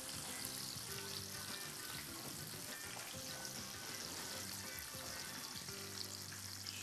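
Steady, dense sizzling of mushrooms frying in hot oil, continuous and close, with faint clinks and no voices.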